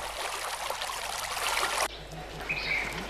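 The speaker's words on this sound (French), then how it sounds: "Dans ce village du nord de Madagascar, il faut aller la chercher au ruisseau." A village stream in northern Madagascar where water is fetched, a steady rushing trickle that fills the first part before cutting to a quieter, thinner flow with faint bird-like chirps.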